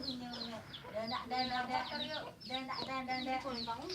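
Chickens clucking in a coop near a house, a busy overlapping run of close, fairly faint clucks and short calls with no pause.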